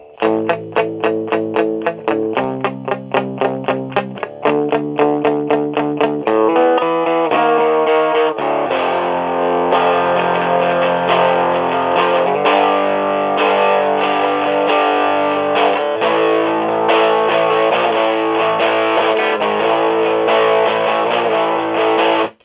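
Electric guitar played clean through an Orange Crush Mini combo amp, picked chords ringing out one after another, then sustained strumming that continues steadily until an abrupt stop.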